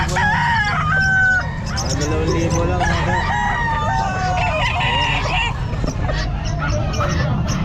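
Several roosters crow loudly at a pet market in Calumpit, overlapping each other amid clucking fowl and a busy crowd of people talking.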